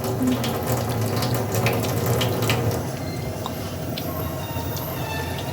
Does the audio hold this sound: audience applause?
no